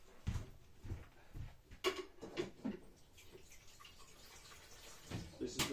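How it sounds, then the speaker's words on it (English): A man rinsing a part of an Aldi Ambiano capsule coffee machine in a kitchen sink, heard faintly from across the room as intermittent splashes and water clatter. "This is the sound of a man rinsing from the other side of the kitchen."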